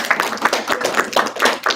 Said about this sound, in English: Please can we give a round of applause to our speaker today.